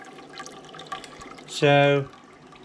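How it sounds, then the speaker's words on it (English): An aquarium airline in a fish tank bubbling harder than normal, a short burst of close gurgling and bubbling that rises, holds for about half a second and stops, with faint room sound and brief talk around it. "Just bubbling actually that's bubbling more than normal."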